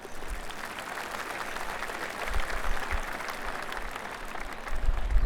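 In the golf video game PGA Tour 2K25, a gallery crowd claps after a missed par putt, a sustained patter of applause that swells slightly partway through and again near the end.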